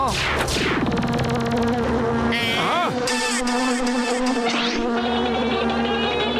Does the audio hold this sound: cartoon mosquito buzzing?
yes